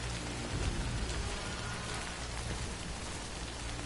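Steady, heavy rain pours down in the video game Death Stranding, a dense, even hiss of drops on surfaces that stays loud and unbroken throughout, with no voices.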